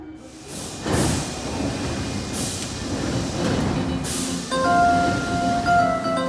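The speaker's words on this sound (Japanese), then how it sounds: "まもなく1番線に天王寺行きが到着します。" Kita-Osaka Kyuko subway train pulling into Senri-Chuo station, a steady rumble with rail clatter and squealing brakes near the end, heard on the platform.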